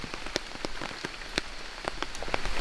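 Heavy rain pours down in the Amazon rainforest: a steady, dense hiss with sharp, close drop impacts landing irregularly throughout, with no voices.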